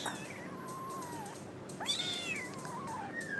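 Small kittens meow in a couple of thin, high, wavering calls, one after another, close by and fairly loud against a quiet indoor background with no talk.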